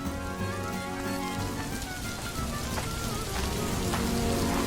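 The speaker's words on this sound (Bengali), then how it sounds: "এত বৃষ্টি আমি আমার জীবনে দেখিনি গো" Heavy rain pours steadily onto surfaces, a loud, dense, unbroken hiss with scattered drop impacts throughout.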